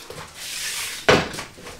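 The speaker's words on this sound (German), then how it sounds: "Deckel drauf" A lid is set onto a pot of Brussels sprouts boiling in salted water, giving a single sharp clatter partway through over a soft hiss.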